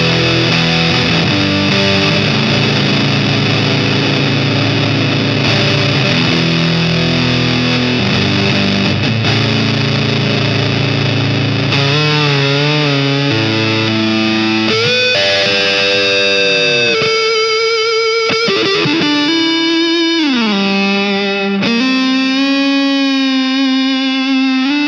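Heavily fuzzed electric guitar, a Tagima Jet Blues Cosmos, through a fuzz pedal with reverb rings out in long, sustained notes and chords that bend and slide, continuous and loud throughout.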